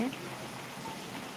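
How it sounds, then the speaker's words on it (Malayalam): Summer rain falling steadily in a soft continuous hiss of drops on surfaces, with a voice speaking over it. "സാവകാശം നിന്ന് പെയ്യുന്ന സൂപ്പർ മഴ"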